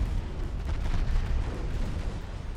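Torpedoes strike a heavy cruiser in the naval game Ultimate Admiral Dreadnoughts, producing a dense, loud rumble of overlapping booms that rolls on without a break.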